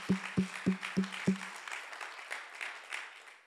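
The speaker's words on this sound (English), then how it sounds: "Can we give a clap of praise to Jesus?" A church congregation claps in praise: five sharp, evenly spaced claps ring out, then looser scattered clapping and murmuring from the crowd fades on.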